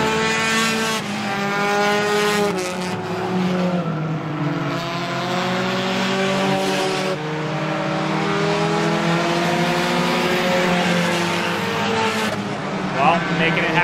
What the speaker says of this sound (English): This time Walton's not wasting any time, blows by him on the outside groove.